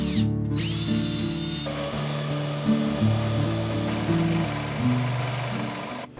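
A power saw cuts through walnut hardwood in a continuous, loud, close mechanical whine with steady tonal hum and shifting pitch as the blade works, no talk.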